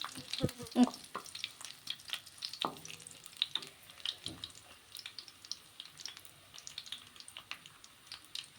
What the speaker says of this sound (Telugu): కరివేపాకు తాలింపులు వేయంగానే పలకరిస్తుంది నేనున్నాను ఇందుట్లో అని